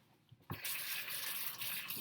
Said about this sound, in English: Now we're going to rinse it off in cold water.